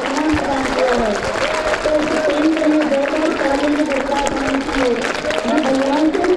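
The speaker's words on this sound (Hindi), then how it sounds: "जोरदार तालियां बज रही है" Loud, sustained applause fills a school honour ceremony as teachers are recognised at Bal Bharati senior secondary school, with a voice talking steadily over the dense clapping throughout.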